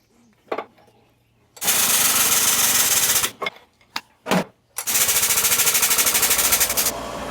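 New bushings are driven into a VW king pin with loud, rapid-fire hammering in two long bursts, separated by a few sharp single knocks, all close by.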